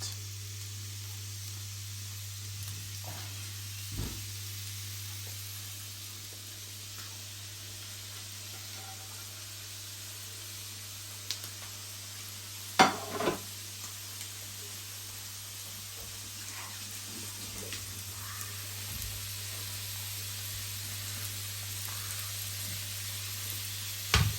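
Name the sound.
frying garlic, onions, peppers and chilies in pan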